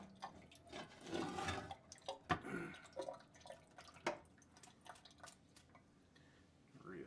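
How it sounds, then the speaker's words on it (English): Water runs and drips as the outside of a glass water kefir bottle is rinsed, with clinks of glass and a few sharp knocks, moderately near and fairly quiet, no talking. "I'm going to just rinse the outside of this bottle."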